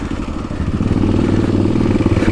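Kawasaki KLX dirt bike riding a muddy, rutted trail, its engine a loud, close, steady throbbing drone with slight surges and some clatter.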